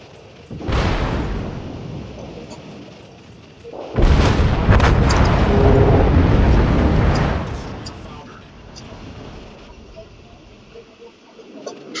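Heavy naval guns fire in a World of Warships clan brawl. Two big booming salvos, the second longer and rolling, give way to a quieter battle ambience, with a voice talking between them.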